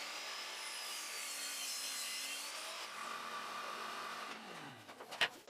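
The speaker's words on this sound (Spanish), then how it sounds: "empiezo cortando 2 tiras de triplay de 3/4 de pulgada" A saw cuts 3/4 inch plywood into strips in a shop, a steady whining buzz of blade through wood that holds for several seconds and ends in a few clicks and knocks as the cut finishes.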